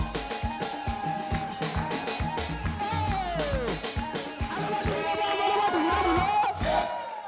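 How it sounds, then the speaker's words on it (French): Live television audience greeting comedian Joe with rapid clapping, whoops and loud crowd cheering that swells and continues throughout. "Bien, merci de l'applaudir"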